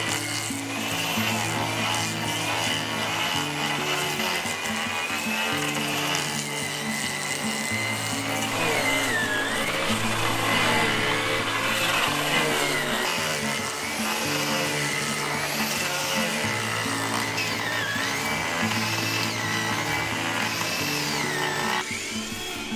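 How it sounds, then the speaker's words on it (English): A log shaver machine peels bark from a heavy zelkova log, giving a continuous loud whirring, grinding drone with shifting pitch and a steady motor hum underneath. "so I'll try using the log shaver. This is a machine dedicated to peeling log barks."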